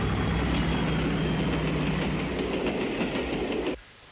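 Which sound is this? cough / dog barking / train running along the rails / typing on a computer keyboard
train running along the rails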